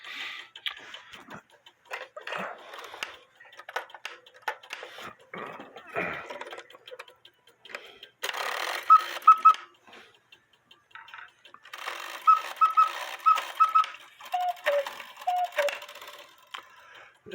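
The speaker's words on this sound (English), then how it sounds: "So this Schmeckenbecher cuckoo quail clock" A Schmeckenbecher cuckoo quail clock with a count wheel movement gives soft mechanical clicks and whirring, then bursts of short, bright chirping tones, with a person talking intermittently between them.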